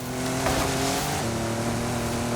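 A Ford Lobo Raptor truck, based on the F-150 Raptor, drives in Forza Horizon 5 with a loud, steady engine drone and strong layered harmonics, and the pitch shifts once midway with no voices present.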